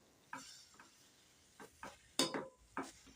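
Grated bottle gourd cooks in hot ghee while being stirred, giving quiet, intermittent bursts of sizzling and scraping spaced a second or so apart over a hushed background, with no talking.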